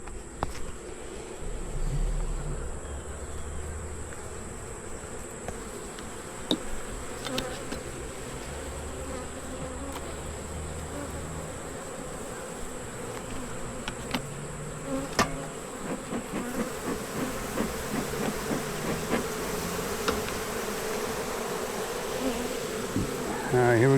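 Honey bees buzzing steadily throughout a hive inspection, a dense continuous drone close by with scattered clicks and knocks of handling the frames.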